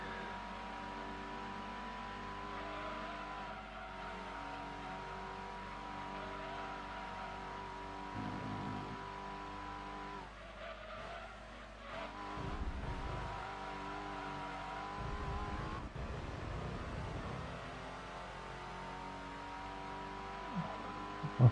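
A Ford Mondeo touring car revs hard in a racing video game, its engine a continuous buzzing drone with pitch rising and falling through gear changes, other cars roaring by around the middle, all fairly quiet and steady.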